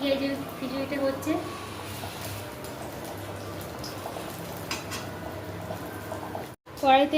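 Khichuri bubbling in a pot, a soft continuous burble of boiling with small pops and liquid plops, close and moderate, with a brief dropout near the end before the bubbling resumes.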